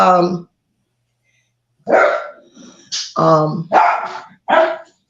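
A dog barking indoors close by, one loud bark, then a pause and a quick run of sharp barks and yips.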